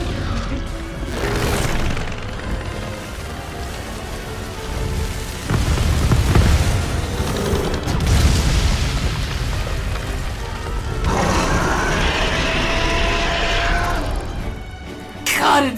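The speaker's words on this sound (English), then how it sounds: "Basil Geese brings everything I love about Basil Geese and just makes it more explosive." Bazelgeuse, a monster in the Monster Hunter video game, sets off a string of explosive booms and crashes, loud and rumbling, with a dense burst and rolling roar in the later part, mixed with game music and effects.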